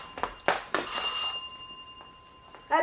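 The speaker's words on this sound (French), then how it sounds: "Mais non, c'est le téléphone." An old-style telephone bell rings in a room, a bright, sustained metallic trill that rises sharply after a few knocks and then fades, close and fairly loud.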